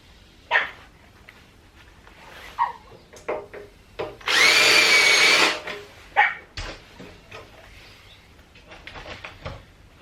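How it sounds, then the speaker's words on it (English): Several short, sharp dog barks scattered through the clip, fairly close, alongside a loud sustained whining burst like a power tool in the middle. "I do apologise now if any of you can hear my dog."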